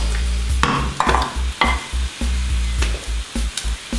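A Bulgarian pancake fries in a pan with a steady sizzle, while a utensil makes repeated scraping and tapping sounds against the pan, close and fairly loud, with no talk.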